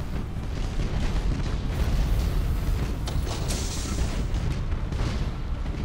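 Torpedo launch from a warship in the space naval battle game Battlefleet Gothic: Armada, a sustained low rumbling roar with heavy mechanical booms and creaks, loud and continuous for several seconds with no talk.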